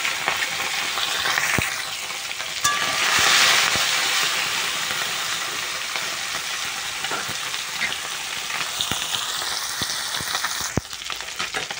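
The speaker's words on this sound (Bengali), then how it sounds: "এই মাছ আমি সব দিয়ে দেবো।" Fish sizzling and crackling steadily in hot oil in a kadai, a close, continuous fry with a louder hissing burst early on and occasional sharp pops and utensil clicks, no talking.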